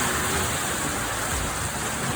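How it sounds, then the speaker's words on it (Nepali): Steady broadband hiss of rain starting to fall in a Nepali village, continuous and fairly loud, with a low rumble underneath and no voices. "अहिले भर्खरै पानी पर्छ"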